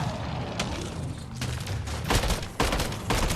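Rapid gunfire in a Mass Effect Andromeda combat scene, several bursts of loud, close shots and booming impacts packed into a few seconds, with no talk.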